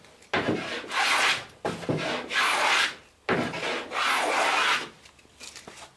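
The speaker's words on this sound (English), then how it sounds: "you always have to fine tune the planing a little bit" A hand plane bevels a wooden plank for a clinker boat, making three long rasping strokes in a row, close and loud, with short gaps between each pass.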